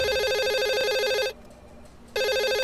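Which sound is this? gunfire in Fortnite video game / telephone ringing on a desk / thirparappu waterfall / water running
telephone ringing on a desk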